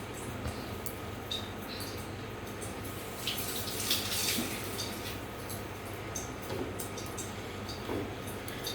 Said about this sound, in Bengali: হাতটা ধুয়ে নিই, তারপর কথা বলছি।